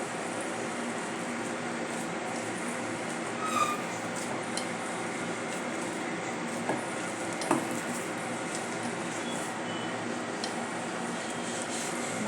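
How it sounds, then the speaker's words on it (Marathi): Potatoes with salt, ginger garlic paste and spices are stirred in a pan for the potato snack, soft steady scraping and faint sizzling with a few sharp clinks of the spoon against the metal. "आता हे सर्व मिक्स करून घेऊया. आले लसूण पेस्ट आणि काही मसाले मिक्स होतील यामध्ये."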